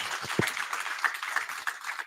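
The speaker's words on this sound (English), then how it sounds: "Let's give Dr. Tia a round of applause." Audience applause for a guest speaker at an evening biotech venture event, a brief patch of scattered clapping at moderate level with no talk over it.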